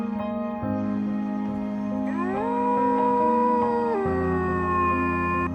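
A single adult wolf howls in a long, sustained call alone, rising in pitch midway and holding steady, with a lower accompanying tone underneath and no talk.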